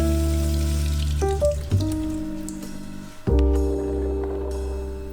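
Beans are rinsed under a running kitchen tap, a steady splashing water noise with a low hum that cuts out briefly and then starts again for several seconds.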